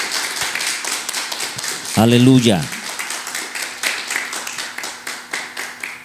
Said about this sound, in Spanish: Lo molesto con un fuerte y poderoso aplauso para el Rey.